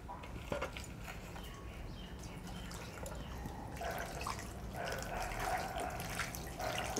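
Water poured into a pot holding a newly planted plumeria, a continuous trickling and splashing stream that swells louder in the second half, with no talk over it.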